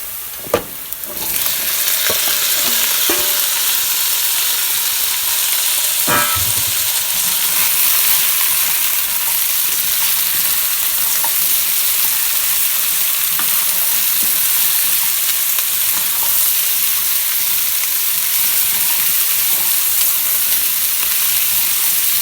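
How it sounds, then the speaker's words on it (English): Soup ingredients for sweet potato and red lentil soup sizzle loudly and continuously in a hot pan with sautéed onions, a bright steady hiss with a few clatters of utensils near the start. "now we're gonna dump that all in our sautéed onions"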